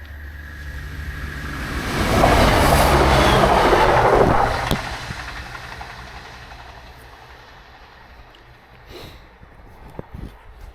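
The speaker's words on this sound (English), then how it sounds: "Oh, the train coming" A train rushes past beside the Chesterfield Canal, swelling to a loud roar and rattle, then fading into a distant rumble with a couple of faint knocks.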